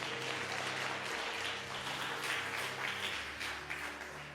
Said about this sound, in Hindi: ताली नहीं बजाएंगे आप?